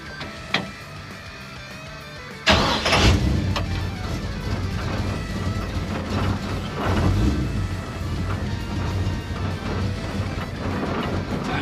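A 1957 Chevy engine cranks and catches with a sudden loud burst a couple of seconds in, then settles into a steady, close, low rumbling idle with faint mechanical clatter and no talking.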